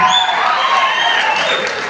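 A comedy-show audience claps densely and steadily while sharp whistles ring out above the applause, continuing at a strong, even level throughout.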